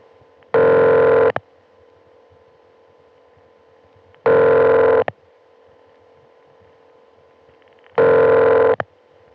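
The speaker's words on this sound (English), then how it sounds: "you can hear his line ringing" An early-1980s telephone line rings on a call: three identical ring bursts, each under a second long, spaced a few seconds apart over a faint line hum, with no voices.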